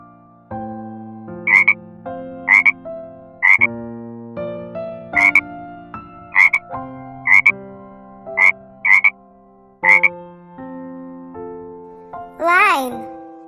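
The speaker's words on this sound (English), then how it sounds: "Frog." A frog croaks about nine times in a steady, evenly spaced series of short, loud croaks over a bright musical backing, ending with a brief rising squeak.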